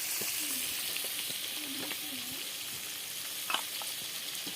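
Chopped onion and garlic sizzle in hot oil in a pan, a steady hissing fry with a few faint stirring clinks and a brief scrape near the end.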